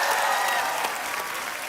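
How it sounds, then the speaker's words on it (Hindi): Dense audience applause at a televised comedy talk show with celebrity guests, a steady wash of many hands clapping together close by, loud and continuous from start to finish with no voices breaking through. "जोरदार तालियां।"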